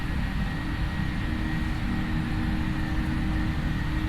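Boeing 737-800 takeoff roll in a flight simulator, a steady loud rumble of engine thrust and runway noise holding constant without a break.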